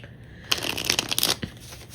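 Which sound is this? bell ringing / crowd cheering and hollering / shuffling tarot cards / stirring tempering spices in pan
shuffling tarot cards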